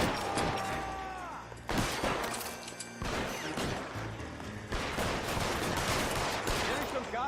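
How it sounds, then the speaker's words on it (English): Enemy gunmen open fire in the crime game L.A. Noire, loud bursts of gunshots and rattling volleys cracking in quick succession with crashing impacts, while someone talks over the shooting. "You didn't expect them all to start shooting at me."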